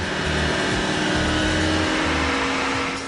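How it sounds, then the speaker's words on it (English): A car engine revs hard and loud through the gears under load on a dynamometer while being recorded for Forza Motorsport 4, a dense, continuous roar with no talking. "So we run the car through the gears and we get a very accurate sound that way."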